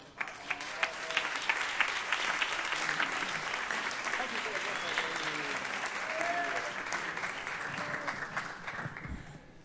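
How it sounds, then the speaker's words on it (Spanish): An audience applauds a Rosario musician at a live folk performance, a steady wash of many hands clapping for several seconds, fairly distant and soft. "don Bonacorso, un aplauso."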